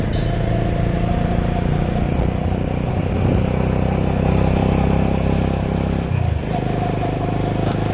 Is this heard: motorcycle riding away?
yes